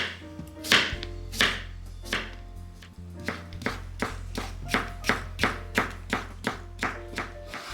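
A knife chops cucumber into thin strips on a cutting board, giving a close, steady run of about a dozen crisp taps that grows regular after a brief pause.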